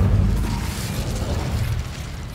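Incendio fire spell cast in Hogwarts Legacy, a whooshing, rumbling burst of flame that starts strong and fades into a crackling roar over a couple of seconds.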